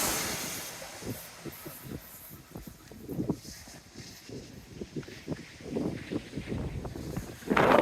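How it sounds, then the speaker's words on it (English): A passing train rounds a bend on a hillside line, heard faintly at a distance under strong gusting wind buffeting the microphone, with low rumbling rising toward the end. "happy train comes round the corner"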